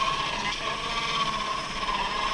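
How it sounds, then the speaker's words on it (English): A power drill whines steadily while a 4-inch hole saw grinds continuously through a plastic sump basin, a dense, rough cutting noise with no pauses. "drill another 4-inch hole into our sump basin. This is a 4-inch hole saw."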